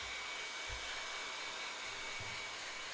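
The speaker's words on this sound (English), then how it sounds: "Get my hairdryer and dry that off." A hairdryer blows steadily to dry a piece of scrap card soaked with water, a continuous hissing whoosh heard close and alone, with a couple of faint low bumps.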